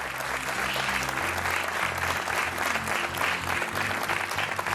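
A TV game show studio audience claps steadily and loudly throughout, a sustained round of applause for a contestant.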